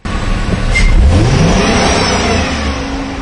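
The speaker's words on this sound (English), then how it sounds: "what we're going to do is bring it up to wide open throttle, basically to the fuel cutoff" A car engine with a crank sensor fault revs hard to wide open throttle up to the fuel cutoff, a loud close rising roar that climbs over a second and then holds at high pitch, with no talking.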